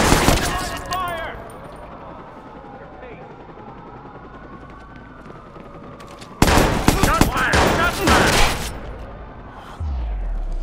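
Gunfire in the video game Watch Dogs, with a loud burst at the start, a quieter stretch of distant shots and helicopter-like rumble, then a long dense automatic volley before a deep boom.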